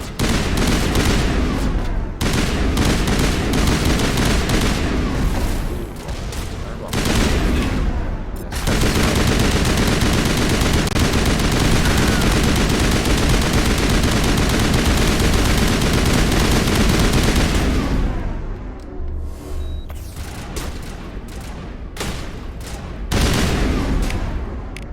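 Sustained rapid gunfire from a shootout in the video game Mass Effect, loud and dense for long stretches with brief lulls between bursts, heavy automatic fire dominating throughout.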